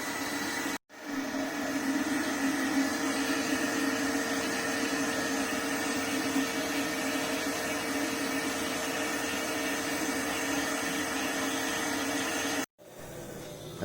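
A vacuum cleaner drones steadily and loudly for about twelve seconds, cutting out briefly near the start and again near the end.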